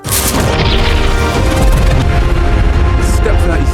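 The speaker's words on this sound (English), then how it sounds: "KT threw out a bomb to take care of the situation" Bomb explosion in an animated action story, a loud sustained blast with rumbling debris and noise filling the whole stretch.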